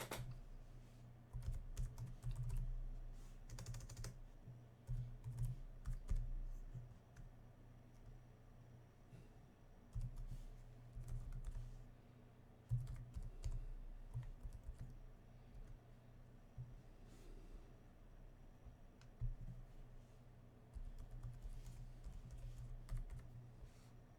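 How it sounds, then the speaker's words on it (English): Quiet, close keystrokes tap out a password on a 2016 Dell Alienware 15 R3 gaming laptop keyboard. The taps come in irregular bursts with short pauses, alone and without talk. "I've got to put in a password."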